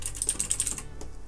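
Typing on the near-silent keys of a SteelSeries Apex USB keyboard, a quick run of soft, muted clicks close by that stops after about a second, with no talk.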